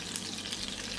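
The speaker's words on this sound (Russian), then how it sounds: "Котлеты должны жариться, а не гореть." Cutlets fry in a sauté pan over moderate heat, giving a steady, close hiss and crackle of oil that holds at an even level throughout.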